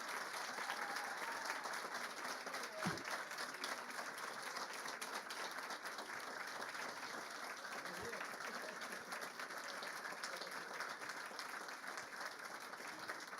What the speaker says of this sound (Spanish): ¿las podemos aplaudir?